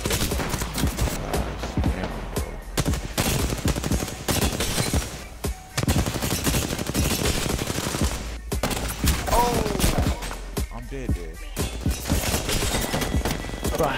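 Sustained automatic gunfire in Apex Legends, rapid bursts of shots mixed with booms, loud and continuous with a player's voice occasionally talking over it.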